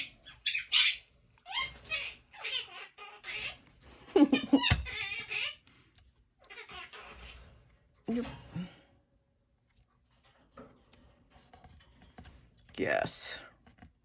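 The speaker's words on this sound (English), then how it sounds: "Sorry for the birds." Pet birds squawk and chirp in sharp, intermittent bursts near a person who talks over them, with some clicking and tapping in between.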